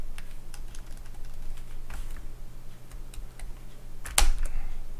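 Typing code on a computer keyboard, a close run of scattered light key clicks with one sharper, heavier keystroke near the end, and no voices.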